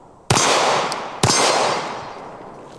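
Two loud, close gunshots from a .40 Smith and Wesson are fired into a concealable bulletproof vest about a second apart, each a sharp crack followed by a long, reverberant decay.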